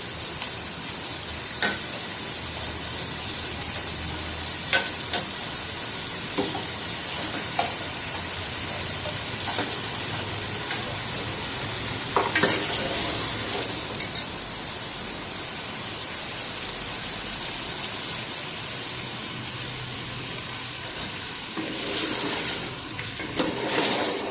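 A soft, continuous sizzle of spices frying with occasional light clicks and scrapes from stirring in a pan.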